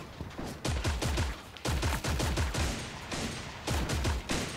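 Gunfire in the Creative Destruction video game, loud close bursts of rapid automatic shots in several volleys with short gaps between them, and no talk.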